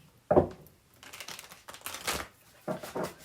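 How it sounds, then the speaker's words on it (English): Oracle cards being shuffled by hand on a table, a few quick riffling and crinkling bursts with short pauses between them, close and fairly quiet with no talking. "Let me just move these cards up so that I have a place to shuffle."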